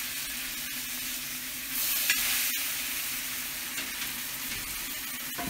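Venison steaks being reverse seared and basted in butter and garlic, sizzling steadily and close in a pan, with a few sharp spoon clinks and a brief louder spatter, no voices.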